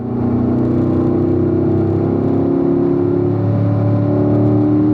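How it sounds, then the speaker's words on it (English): A race car's engine drones loudly and steadily, its harmonic whine holding strong as it accelerates up through the gears to fifth on the front straightaway at Ron Fellows Springhill track in Las Vegas. "let's open it up here on the front straightaway. We're going to get up to 5th gear."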